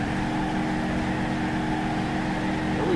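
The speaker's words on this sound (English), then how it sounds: "it's just going to go and do some crazy donuts until it blows up" Supercharged truck engine droning and revving while doing donuts in BeamNG.drive, a steady loud motor hum with a slight rise in pitch near the end, no talk.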